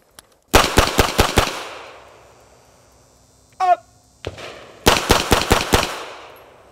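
Pistol shots from shooting drills ring out in two rapid strings of about six each, with a single earlier shot, a brief metallic rattle and one lone shot between them, sharp and close with short echoing tails.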